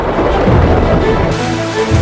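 Heavy rain pours down in a dense, loud wash while deep thunder rumbles through it, filling the whole short stretch without a break.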